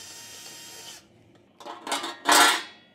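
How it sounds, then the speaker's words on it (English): Drill enlarging oval bolt holes in an oil pan on a rebuilt 6.0 engine, heard as a steady whir that stops, then a few short bursts of grinding as the bit bites into the metal, fairly close. "So I'm just gonna drill these guys out a little bit."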